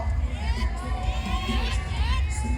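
A crowd cheers and shouts for contestants at a Nang Noppamas pageant during a lantern-float festival in Ngao, Lampang. The cheering is a steady, dense wash of many voices, with higher shrill calls rising over it throughout.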